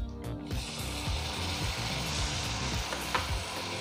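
Chopped tomato sizzles and crackles steadily in a hot pan with sautéed capsicum, a dense frying hiss with scattered scraping and stirring knocks throughout, no voices.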